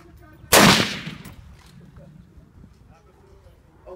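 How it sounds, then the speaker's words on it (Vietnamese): One loud AR-15 rifle shot cracks out sharply at an outdoor gun range, then fades over about half a second, leaving a quiet background with faint murmuring. "Tên của loại súng trường này là"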